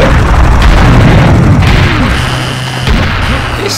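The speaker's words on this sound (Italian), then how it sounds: "Mostro, il cannone poi overpowered" A cannon fires in the video game Serious Sam Revolution, loud booming blasts with crashing impacts that fade slightly toward the end, no speech over them.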